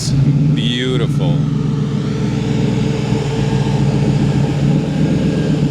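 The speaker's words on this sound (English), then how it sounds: "Look at the side exit exhaust on that. It sounds so good." Engine of a car with side exit exhaust at a morning car gathering with midget race cars, a steady loud rumble running throughout, with brief chirps and a voice near the start.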